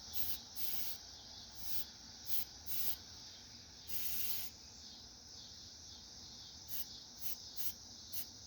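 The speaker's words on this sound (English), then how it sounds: "I'm just going to spray the bare metal with some primer paint." Spray can primer paint hissing onto bare metal of a truck during home body work, in a series of short and longer bursts separated by quiet pauses, close and fairly soft.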